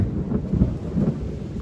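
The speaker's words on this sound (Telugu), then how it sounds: "వర్షం అయితే వస్తుంది ఫ్రెండ్స్" Rain falling with low rumbling thunder at a hidden waterfall in Telangana, a deep steady roll close by with no voices.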